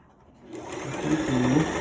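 A sewing machine starts up after a brief silence and runs steadily, stitching a seam with a loud, close, buzzing whir.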